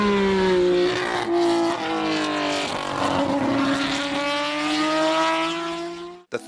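A third-generation C10 Nissan Skyline GT-R (Hakosuka, 1968) racing on track, its engine screaming loud and close with rising and falling pitch through gear changes, sustained for several seconds before cutting off abruptly.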